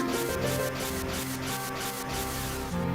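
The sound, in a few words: strong gale wind blowing in The Legend of Zelda: The Minish Cap video game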